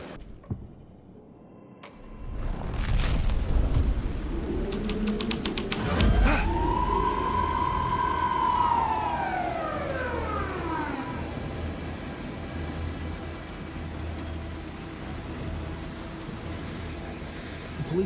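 Police car siren in Alan Wake 2, a wailing tone that sweeps up, sustains and then falls away over several seconds, rising out of a low background rumble. A few sharp clicks come just before it.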